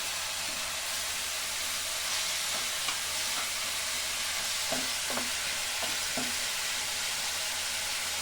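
Bata fish cooked with poppy seed paste frying in a pan, a steady close sizzle running throughout with a few scraping stirs near the end.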